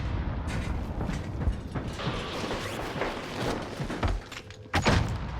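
Grenade blasts in Call of Duty Warzone, with a run of dense rumbling game noise and a couple of sharp, loud bursts near the end, no talk.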